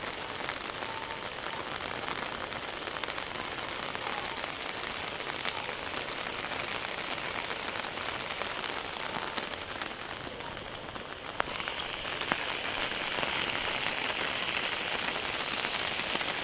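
Heavy rain in Chennai, a dense, even roar of raindrops pattering on surfaces, continuous and close for the whole stretch with no voices.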